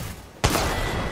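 A single sudden loud burst of video game gunfire, close up, with the roar and decay filling the rest of the moment and no talk.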